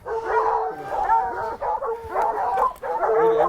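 A dog on a South African safari gives a run of excited barks and whimpering yelps, fairly close and loud, in several bursts with short pauses between them.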